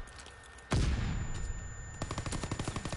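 PPSh submachine gun firing in a video game: a sharp opening shot, then a rapid, even burst of close automatic fire over the last second.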